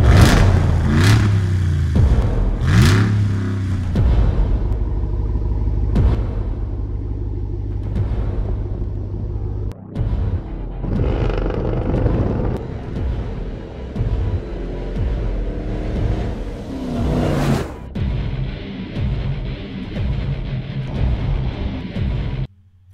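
The 575-horsepower Ram Rebel TRX concept truck's engine rumbles loudly and is revved repeatedly, with sharp surges rising and falling over a deep idle. No one talks over it.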